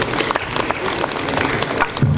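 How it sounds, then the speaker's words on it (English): Applause from the audience at a 2018 police security summit, a dense steady patter of many hands clapping, loud and close, filling the whole moment. "Please, a round of applause for him once again"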